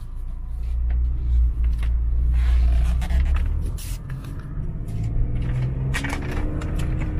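A 2005 BMW M3 Convertible with SMG transmission drives along with a loud, deep engine rumble and road noise, easing slightly midway before a gear change brings the tone up again; scattered knocks and rustles sit close by.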